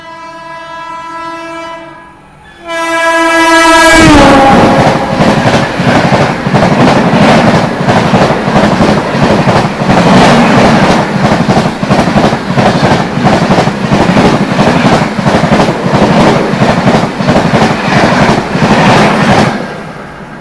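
On the Barauni–New Delhi clone special, a horn blares briefly before a loud, fast, rhythmic clatter of a passenger train running near 130 km/h fills the rest, with another train passing close on the adjacent line; no talking.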